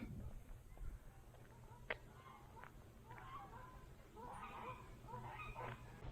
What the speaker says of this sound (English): And another gathering of ducks.